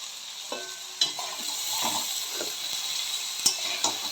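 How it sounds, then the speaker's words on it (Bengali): Cabbage being stir-fried in a pan with potato and tomato, a steady close sizzle with scattered stirring scrapes and a few sharp utensil knocks against the pan. "এই সময়তে আমি বাঁধাকপিটা দিয়ে দেব।"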